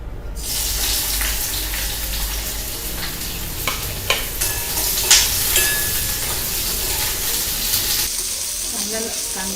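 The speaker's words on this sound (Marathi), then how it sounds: "कांदा छान लाल होईपर्यंत भाजायचा." Two small onions, half a cup of dry coconut, five or six garlic cloves and half an inch of ginger roast in a pan, making a continuous close sizzle with intermittent clinks and stirring scrapes, which fade toward the end.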